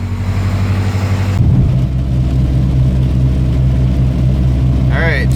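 A car engine runs steadily while the vehicle is driven, a continuous low drone with a noticeable shift partway through and a brief rising whine near the end.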